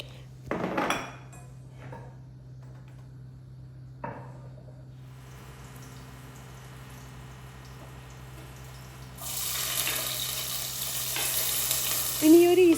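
Six to eight garlic cloves, two green chilies and tomato hit hot oil in a pan. Dishes and utensils clatter at first, then a broad, steady sizzle swells and grows louder over the last few seconds.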